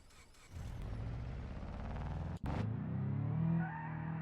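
A car engine in a video game revs and roars steadily, with a brief cut partway through before the engine surges louder again.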